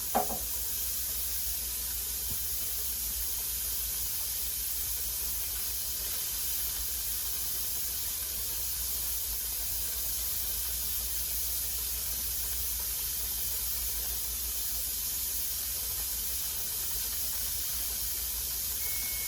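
Steady, loud steam hiss jets from the vent of a pressure canner before its weight is set on, a constant high rushing noise that holds without a break and is heard alone.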